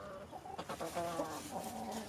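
Chickens picking through old bedding shavings cluck in a soft, continuous murmur of short calls, close and fairly quiet.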